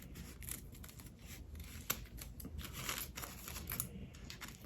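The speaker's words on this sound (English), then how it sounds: "To cut it like so and then come in and cut out those little," Scissors cutting coffee filter paper for paper peony flowers, a series of soft close snips and crisp paper rustles over a low background hum.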